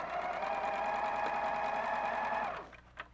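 Close, steady whir of a sewing machine stitching quilt strips along a seam, running evenly for about two and a half seconds before slowing to a stop, followed by a soft click.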